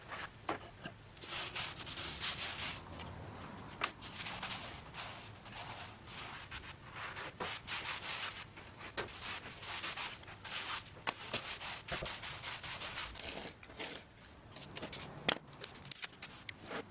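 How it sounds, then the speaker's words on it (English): Sanding the filled top of a wooden armoire by hand, a steady close scratchy rubbing with rhythmic strokes and occasional sharp knocks, fairly quiet overall. "So after filling and sanding the top"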